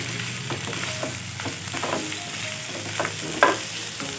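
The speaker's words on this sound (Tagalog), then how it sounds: "pwede na uli natin ibalik itong pork. Gisa natin mabuti." Pork sautéing in a pan sizzles steadily up close while a spatula stirs and scrapes at intervals, with one sharper clack near the end. No voice is heard.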